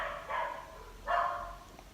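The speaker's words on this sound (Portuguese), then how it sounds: "E o cachorro ele começou a latir loucamente agora." A neighbor's dog barks at night, two faint, muffled bursts of barking in a quiet setting, heard at a distance with no voices.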